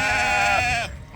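Fall ewe lambs bleat close by, one loud sustained wavering cry of nearly a second that breaks off, with faint farm background after.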